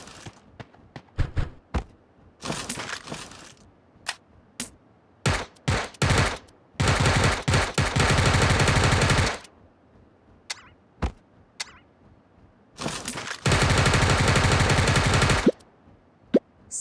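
Gunfire in the video game Sausage Man, scattered single shots and short bursts leading into two long sustained automatic volleys, loud and close with quiet gaps between.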